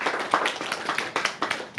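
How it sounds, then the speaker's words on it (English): Sparse, uneven clapping from a small audience at a Sunday feast gathering in an ISKCON temple, a handful of distinct hand claps over a couple of seconds. "Let's give our speaker a round of applause."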